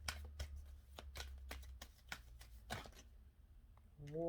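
Oracle cards from a Mary Magdalene deck being shuffled and drawn, a quiet series of sharp riffling snaps and soft slides, close and faint, ending with a brief voiced sound.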